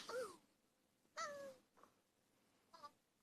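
Synthesized cat meows from a virtual pet video game, three short mewing calls spaced about a second apart, fairly soft and heard alone with no talking.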